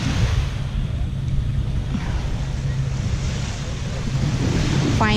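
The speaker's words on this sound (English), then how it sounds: "This is a very nice white sand beach." Surf on a white sand beach, a continuous wash of waves under strong wind buffeting the microphone, with a low engine rumble in the background and no clear talk.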